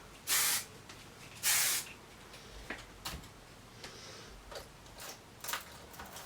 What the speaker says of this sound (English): I'm going to go ahead and spray this again.